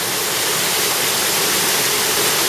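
A waterfall in a wooded waterfall country valley pours as a loud, steady broadband roar. The close, unbroken rush fills the whole moment with no voices.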